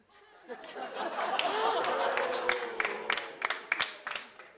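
A studio audience on a Spanish talk show claps and chatters in a sustained wash of applause, with scattered sharp claps and murmurs building and then thinning out toward the end.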